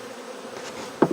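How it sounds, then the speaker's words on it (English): A dense swarm of honeybees buzzes steadily after being dropped into a box during a bee removal, ending with a short louder burst. "look how many bees are in there"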